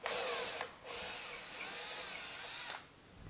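A power drill whines loudly at high pitch in two long bursts separated by a brief pause, drilling into a wall for a curtain rod, then winds down; no voices.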